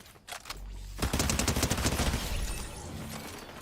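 A gun in the video game Fortnite fires a rapid, heavy-recoil burst of shots, loud and continuous for a couple of seconds, with no talking over it.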